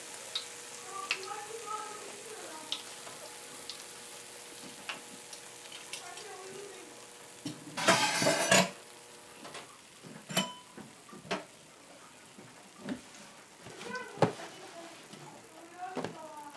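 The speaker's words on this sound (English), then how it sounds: "So that's how you fry fish for dal and rice, guys." Fish sizzling quietly in hot oil for dhal and rice, a soft steady crackle with a brief louder burst of frying and scattered clicks and taps of a utensil.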